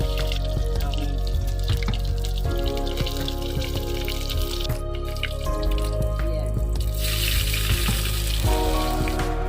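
Cumin seeds sizzle in a clay pot as a chicken dish begins, a loud, continuous close crackle and hiss that runs steadily throughout with no talk.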